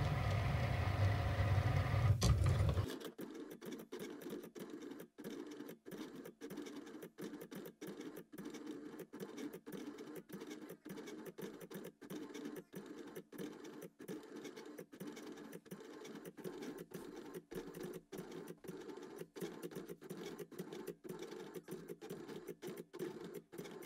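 A Cricut machine draws with a 2.5 tip gold calligraphy pen, giving a steady mechanical whir broken by rapid, regular clicks and ticks of the carriage moving, close and continuous after a louder start.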